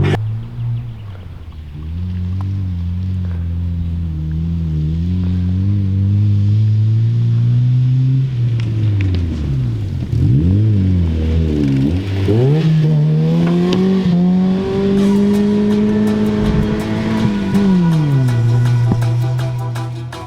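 A Honda Civic engine runs loud and close, idling roughly and sputtering, then revving up and down in repeated swooping surges before settling back to a rough idle, with no talking.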